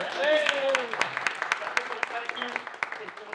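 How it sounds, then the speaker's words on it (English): People at a film Q&A screening applaud in a brief round of clapping, with scattered claps and voices talking over it. "Big round of applause."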